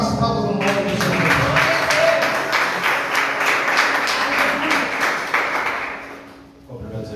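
A church congregation claps rhythmically for Pastor Felipe during a worship service, producing loud, sustained applause with faint voices mixed in. It fades out near the end.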